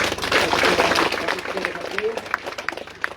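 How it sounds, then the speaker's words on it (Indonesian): An audience applauds at a harvest ceremony with an Indonesian parliament deputy speaker, a thick wash of clapping that thins into scattered separate claps, with a voice faintly heard beneath. "kita sekali lagi tepuk tangan untuk"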